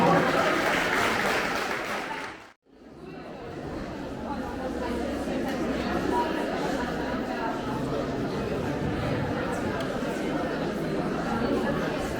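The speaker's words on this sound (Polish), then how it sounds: "Brawa, brawa" Applause at a school year-end ceremony for sixth and seventh graders: a brief burst of clapping, a sudden cut, then a long spell of crowd chatter and murmuring in a large room.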